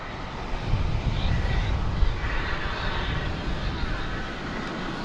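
Boeing 747 being towed by a tug out to the taxiway at DFW Airport at night, a low steady rumble of machinery and distant aircraft noise with a slight swell in the middle.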